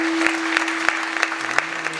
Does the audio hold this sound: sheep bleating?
no